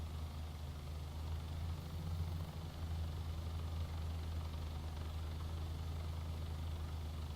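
A video game aircraft engine hums steadily at low volume, a continuous low drone with no breaks before landing and shutdown.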